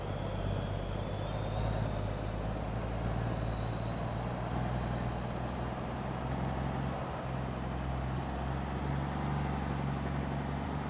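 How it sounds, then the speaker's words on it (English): A loud, steady truck engine drone in Farming Simulator 22, during oat harvesting, rumbles continuously, with a high whine rising slowly over it; no voices. "Loud truck."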